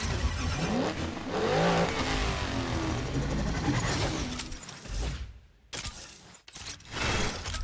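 Lamborghini Aventador engine in a racing video game, revving hard with rising and falling pitch sweeps, loud and close, before cutting out briefly near the end and returning.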